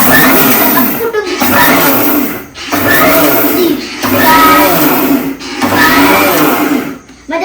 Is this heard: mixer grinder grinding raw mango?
yes